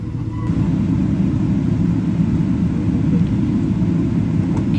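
A steady, loud, low roar from the engines of an Emirates Boeing 777-200LR departing Dubai fills the space without pause. It is broad and rumbling, with no voices.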